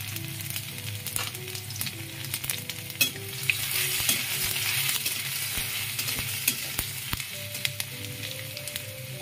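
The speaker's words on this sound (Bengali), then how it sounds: "আদা আর পাঁচফোড়নটা একটু ভালো করে ভাজা ভাজা করে নিচ্ছি।" Ginger and panch phoron spices fry in hot oil for a mango chutney, a steady close sizzle with scattered clinks and scrapes of stirring throughout.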